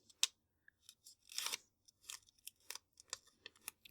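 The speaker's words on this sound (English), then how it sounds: "I'm going to fold the post-it note in half just like this." Paper crinkles and creases softly and close by as a Post-it note is folded in half, with a sharp rustle followed by several light crackling touches.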